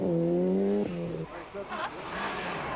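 A compact Mazda rally car, lower on power than its Toyota rivals, runs a snowy Norwegian rally stage in 1994; its engine note revs and drops between gears, with brief tire noise, while a commentator talks over it.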